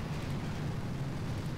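A deep, sustained rumble from an artillery shell explosion in a video game, low and steady throughout with no voices over it.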